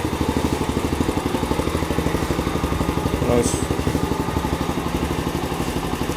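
A Vader/Boom 125 motorcycle idles with a steady, even rapid putter and a light mechanical clatter, loud and close throughout, with one brief spoken word partway through.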